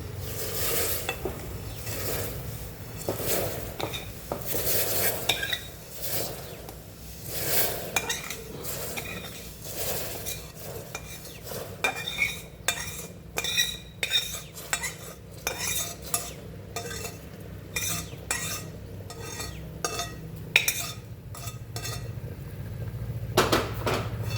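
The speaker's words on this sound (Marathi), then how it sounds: "आता आपण भाजलेला रवा कुकरमध्ये टाकून घेऊ" Roasted semolina is stirred into jaggery syrup in a hot pressure cooker, a spoon scraping and clinking against the metal pot in quick, repeated strokes, with a faint sizzle beneath and no talking.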